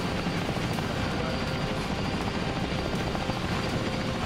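A helicopter in the video game Arma 3 gives off a constant, dense rotor-and-engine roar that stays loud and steady for the whole stretch, with no voices over it.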